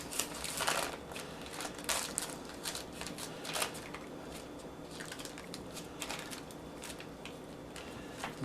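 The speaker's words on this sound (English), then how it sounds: "Looks like this wax paper is breaking up." Wax paper crinkling and crackling up close as hamburger is rolled inside it, a quiet run of irregular rustles and crisp snaps with no talking.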